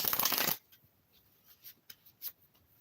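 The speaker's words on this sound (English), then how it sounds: "I don't know why I'm shuffling again. I already shuffled" Tarot cards are shuffled in a loud burst of riffling at the start, followed by a few soft taps and slides of the cards, with no talking.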